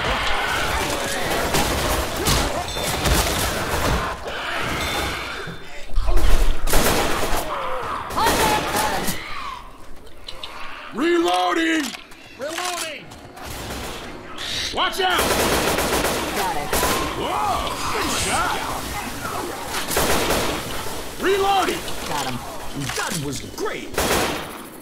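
Rapid machine-gun and rifle fire from Left 4 Dead 2 rattles almost continuously in dense close bursts, with a brief lull midway, while a voice calls out over the shooting.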